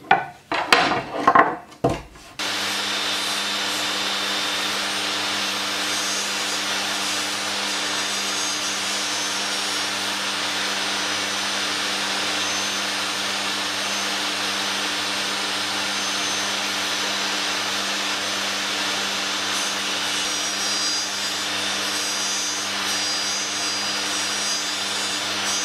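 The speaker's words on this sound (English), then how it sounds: "I'm gonna turn the ends of it down on the table saw" Table saw used to turn down the ends of a 12 mm rod, starting with a few knocks, then a loud, steady high whine with an even hum that runs unbroken to the end.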